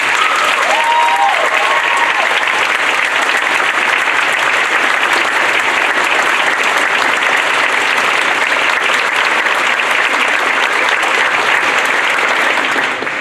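An audience at a school spring band concert applauds guest performers: dense, loud, sustained clapping fills the hall evenly throughout, without a voice over it.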